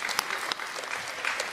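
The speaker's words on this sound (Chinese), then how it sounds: "鼓掌吧！" Audience applause at a Deyunshe crosstalk comedy show, a short burst of steady, dense clapping from the crowd.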